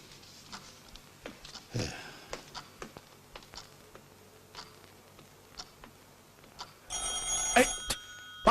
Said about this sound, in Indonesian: Pak, ada telepon, Pak.